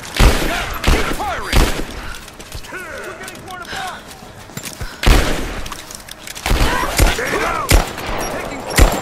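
Loud gunfire bursts from the Rise of the Tomb Raider prison-break battle, sharp volleys of shots coming in irregular clusters between shouted voices and clanking mechanical sounds.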